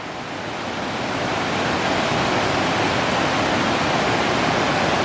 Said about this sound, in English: Here's the stream coming down.